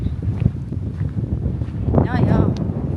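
Strong wind gusts buffet the microphone with low rumbling roars that surge and ease, loud and close, while a voice is briefly heard in the background.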